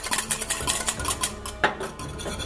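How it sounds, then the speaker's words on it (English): Egg yolks are whisked briskly in a bowl, a quick rhythmic clatter of metal against the dish with sharp clinks, close and fairly loud. "whisk them up"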